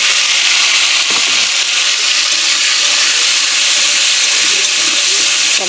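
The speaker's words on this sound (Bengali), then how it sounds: "এখানে তেলে কালো জিরে ফোড়ন দিয়ে দিলাম, দিয়ে দিলাম টমেটো" Black cumin seeds and tomatoes fry in hot oil, giving a loud, steady sizzling hiss that continues throughout with slight crackles.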